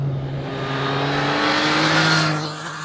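The three-cylinder engine of a 2021 Triumph Trident motorcycle revs up, a smooth, loud, rising drone that holds steady, then falls away as the bike passes, heard alone without talk.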